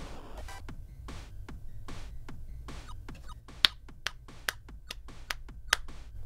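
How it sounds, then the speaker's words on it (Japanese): Applause effect from the video game Needy Girl Overdose: a steady run of about a dozen crisp, evenly paced claps, close and clear with no voices. "これは拍手ですよ。"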